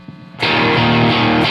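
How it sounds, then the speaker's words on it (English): Distorted electric guitar part: a quiet pause, then a loud sustained chord struck at once, ringing full and steady to the end with a brief accent partway through. "there's always noise with distortion"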